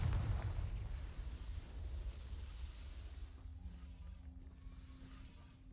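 Confringo fire spell in Hogwarts Legacy bursting with a heavy low boom at the start, then a long rumbling roar that slowly fades while a faint hum lingers.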